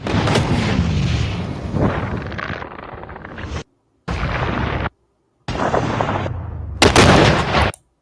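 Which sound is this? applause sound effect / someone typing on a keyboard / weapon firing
weapon firing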